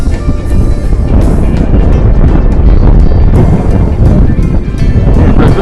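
Strong wind roars and buffets the microphone during a flight of a lightweight 141-gram TYH TY-T6 drone, a loud, continuous rushing noise with gusty surges.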